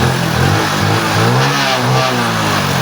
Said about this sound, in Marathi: मग काय गाड्याने केली बा गाडी चालू।